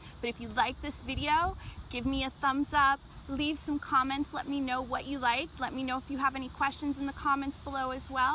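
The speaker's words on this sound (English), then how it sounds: "You probably hear the cicadas singing behind me" Cicadas drone outdoors on a bright day in a steady, high, continuous buzz that sits behind a person talking throughout.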